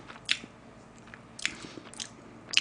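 Crisp bites and soft crunchy chewing of macaron desserts close to the microphone, three sharp bites spaced about a second apart with quieter mastication between, no talking.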